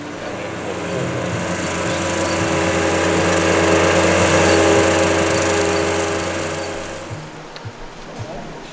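A string trimmer fitted with a Tumbleweed Terminator attachment shreds tumbleweeds along a barbed wire fence, its high whining engine swelling loudly and steadily for several seconds before dropping off abruptly and winding down.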